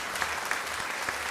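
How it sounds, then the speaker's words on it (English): Audience applause greets comedian C.R. Parsons as he is introduced on stage, a steady wash of clapping from a crowd held at an even level throughout. "Give a nice big round of applause for the one and only, my good friend"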